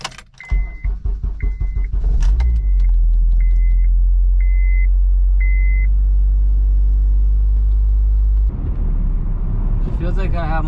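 A K-swapped 2002 Honda Civic EM2 starts with keys jangling and a chime pinging, then its engine settles into a loud, steady idle rumble close by. Engine noise rises toward the end as the car sets off.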